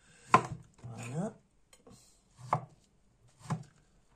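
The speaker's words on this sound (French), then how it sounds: "On coupe en morceaux les poires, qu'on met bien sûr dans un saladier" Pears being cut into pieces on a board for a homemade fruit salad, a few separate knife chops with short pauses between them, close and fairly quiet.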